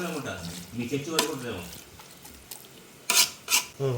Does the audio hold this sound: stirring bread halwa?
yes